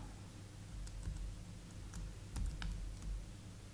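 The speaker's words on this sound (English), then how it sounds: "Okay, so I can just start typing now." Typing on an Apple Wireless Keyboard paired with a Dell Streak, soft quick key taps in irregular bursts, close and fairly quiet over faint room noise.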